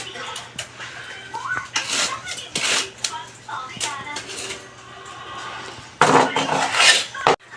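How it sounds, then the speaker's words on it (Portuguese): Dishes, plates, glasses and cutlery clatter and scrape while being washed in a home kitchen, with intermittent clinks and rubbing, a louder burst of rattling near the end. "Aí aqui eu já lavei também um bocado de louça,"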